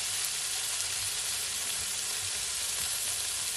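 Tomato drops into a hot pot and sizzles steadily, a close continuous frying hiss without any voices.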